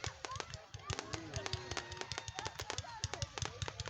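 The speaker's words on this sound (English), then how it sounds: "Oh, look, they're shooting more. Right over there at the neighbors over there." Fireworks being shot off at neighbors' houses during the John Lambert Days fireworks show in Ohio City, a rapid irregular series of sharp crackling pops and bangs at a moderate distance.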